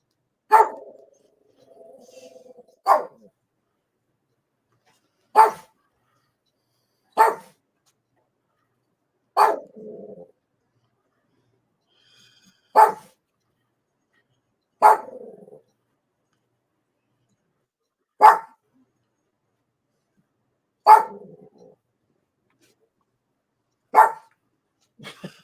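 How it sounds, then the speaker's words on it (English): A dog barks from another room in a single sharp bark at a time, about ten barks spaced a few seconds apart, with faint whimpering between some of them and no talk over it. "that's just my dog"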